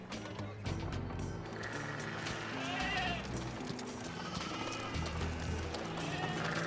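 Sheep bleat in a scene from a fantasy TV series set in a mountain village, with music and background noise running under them.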